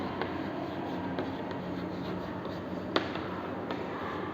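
A pen writes an answer on paper, scratching softly and continuously close by over a faint room hum, with one sharper tap partway through.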